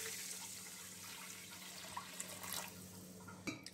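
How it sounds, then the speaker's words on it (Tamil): Water poured into a pot of basmati rice with whole spices and green chillies for paneer tikka dum biryani, a quiet steady trickle with a few soft splashes and a brief clatter at the end. "1 கப் வந்து தண்ணி சேர்த்துக்கலாம்"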